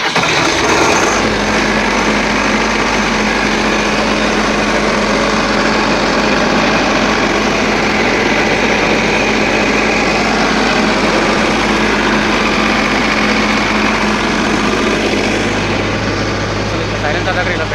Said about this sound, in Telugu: ఒకసారి జనరేటర్ ఆన్ చేసి చూద్దాము